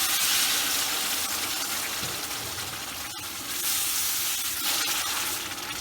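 A sweet cheese mixture with added syrup for halawet el jibn cooks in a pan while being stirred constantly. It gives off a continuous close hiss and bubbling with faint scraping and no talking.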